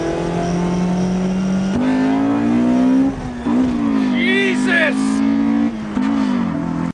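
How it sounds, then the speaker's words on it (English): A Honda VTEC engine revs loudly, its rising harmonic whine climbing and falling over about seven seconds while a voice exclaims over it. "nothing beats the sound of VTECs"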